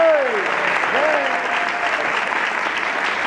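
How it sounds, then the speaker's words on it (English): Audience applause at a health department graduation ceremony, steady and full throughout, with a voice speaking briefly over the clapping at the start. "Let's give her a round of applause."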